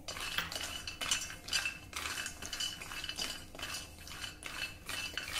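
Cashews and almonds roasting in a pan over low heat, stirred so the nuts rattle and a spoon clinks against the metal in quick, repeated strokes, close and fairly quiet, with no talk.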